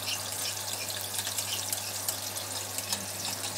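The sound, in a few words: water poured into cooking tuna sauce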